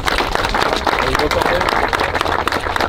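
Audience applause at an outdoor inauguration of a former open-air swimming pool in Caudry, steady dense clapping filling the whole stretch with crowd murmur and voices mixed in.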